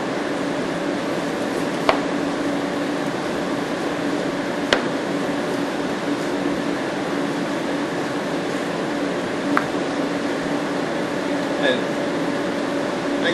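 A steady electric mixer hum runs through sweet potato casserole batter with salt and vanilla extract, broken by a few soft clicks as the bowl sides are scraped down.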